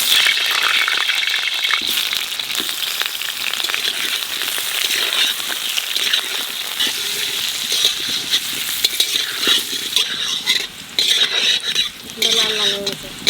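Chicken curry being stirred in a large kadai, a steady sizzle with scraping and clattering of the spoon against the pan throughout, close and fairly loud, with no talk.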